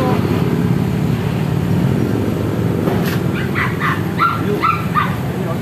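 Dog barks break through a busy outdoor neighborhood cleanup in a barangay, several short yips and barks clustered late in the moment over a constant wash of street and traffic noise, with people talking nearby.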